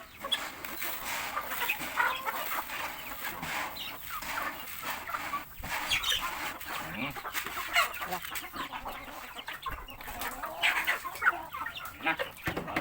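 Chickens cluck and squawk busily all around at close range while being fed, with scattered pecking and rustling and occasional faint voices in the background.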